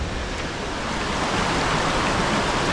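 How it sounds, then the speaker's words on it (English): A waterfall pours in a dense, continuous roar, loud and close, a broad steady rush of water with no pauses and no voices. "Let's see if I can get a good angle on the waterfall."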